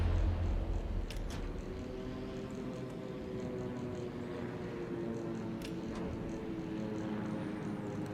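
A carrier fighter plane's engine drones steadily after launch in World of Warships, a continuous propeller hum under faint background game sounds.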